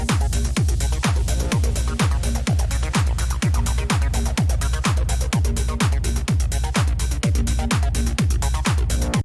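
Techno track driven by a punchy, upfront four-on-the-floor kick drum thumping at a steady beat, loud and dense with busy synth and percussion layers on top and no voices.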